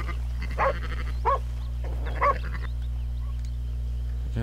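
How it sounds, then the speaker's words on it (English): A dog in Red Dead Redemption gives three short yips or barks at moderate distance over a constant low background drone, then quiet, with no talking. "What kind of dog is that?"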